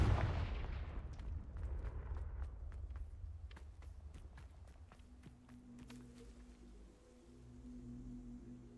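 Confringo fire spell cast in the video game Hogwarts Legacy: a loud blast that dies into a string of sharp crackling impacts and rumbling explosions, followed by lower game ambience.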